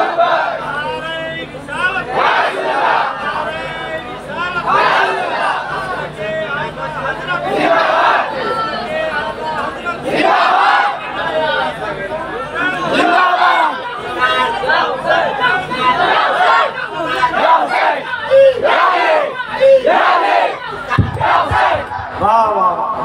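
A large crowd at a religious jalsa gathering shouting back in unison in response to a takbir slogan, with repeated loud bursts of massed voices rising and falling, a leader's call heard between the responses.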